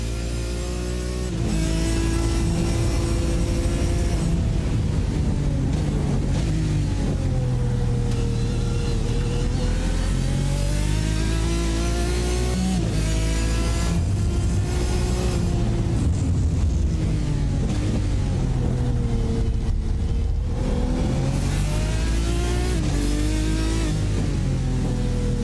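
Race car engine in the iRacing game at Portimao's Algarve International Circuit, loud and continuous, revving up and down through gear changes and corners across the whole lap section.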